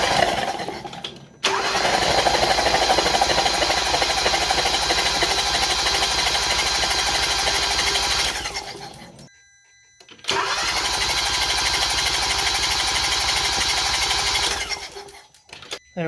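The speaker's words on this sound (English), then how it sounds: "Now we're going to go ahead and crank it." A car engine, just treated with B12 Chemtool and with the fuel pump fuse pulled, cranks over with a loud, fast, even starter whir, then stops, pauses for about a second, and cranks again at length without catching.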